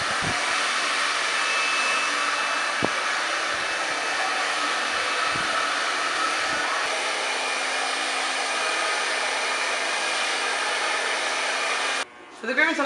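A hair dryer blows hair dry with a steady, close, loud whoosh for about twelve seconds, a few soft bumps under it, then cuts off abruptly near the end.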